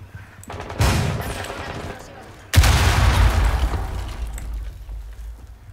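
Two loud shotgun blasts in Rainbow Six Siege, each followed by a rumbling tail, with faint talk in the background.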